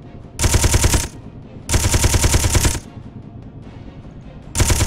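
Vehicle-mounted guns on a buggy in Space Engineers fire all at once in loud, rapid automatic bursts, three separate volleys roughly a second long each, divided by short pauses.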